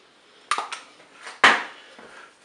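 Spoon stirring tomato paste into cooked tagliatelle in a Cookeo multicooker pot, a few sharp metallic clinks and scrapes against the pot with quiet gaps between them.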